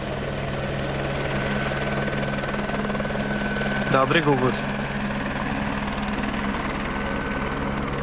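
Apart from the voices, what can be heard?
helicopter coming in to land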